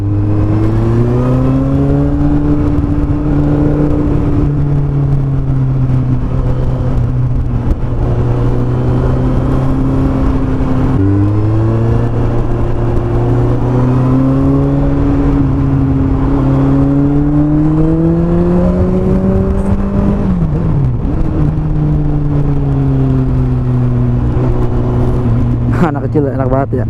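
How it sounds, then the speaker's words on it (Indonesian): A Kawasaki Z800 motorcycle engine rumbles close by, its exhaust note rising and falling as the throttle is revved repeatedly. "Ini knalpotnya enak banget nih, nggak bacot"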